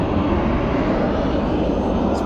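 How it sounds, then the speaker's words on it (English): Fixed-wing airplanes pass overhead on approach to Harry Reid International Airport during a college baseball game, a steady loud engine roar filling the whole stretch with faint voices beneath. "we hear the planes fly overhead here, heading towards Harry Reid International Airport"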